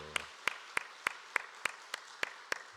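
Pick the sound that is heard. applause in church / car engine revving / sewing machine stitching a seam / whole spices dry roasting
applause in church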